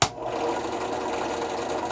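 A Harbor Freight Central Machinery drill press motor starts with a brief thump, then runs at a steady, close, even whir with a faint mechanical rattle and no talking.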